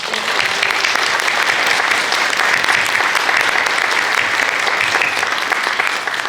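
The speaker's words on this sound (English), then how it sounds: "Let's give our candidates a big round of applause." Audience at a school board candidates forum breaking into sustained, dense applause, many hands clapping steadily and loudly for several seconds.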